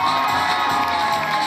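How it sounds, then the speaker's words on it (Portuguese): A carnival crowd cheers and shouts for a five-month-old baby in a clown costume, a loud continuous burst of voices with children's shouts mixed in. "cadê os aplausos pro Davi?"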